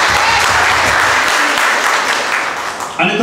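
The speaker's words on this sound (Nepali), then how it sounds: "यसरी हामी प्रभुलाई ताली बजाएर धन्यवाद।" A church congregation claps loudly in thanks, a thick continuous roar of hands that holds steady, then fades slightly before a short final burst.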